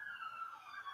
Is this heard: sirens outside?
yes